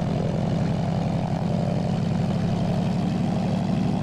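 The propeller engine of a Zlin Z-142 in a flight simulator game drones steadily as the throttle comes up a little, a loud, even buzzing hum throughout with no speech.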